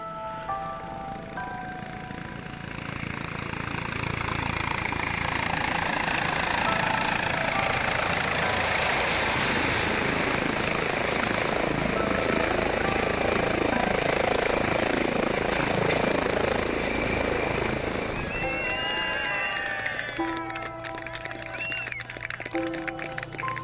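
An air ambulance helicopter on the Isle of Wight flies nearer and lands, its rotor chop and turbine whine swelling to a loud, steady thrum before easing off, with music and a voice at the start and end.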